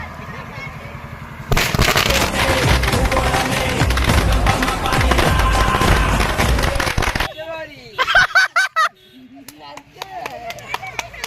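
A 1000-wala string of firecrackers goes off at a village Diwali celebration, a dense, loud crackling barrage lasting several seconds, then a few scattered sharp bangs with voices around.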